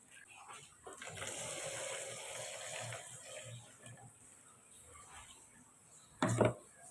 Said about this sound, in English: I'm also going to add water as well.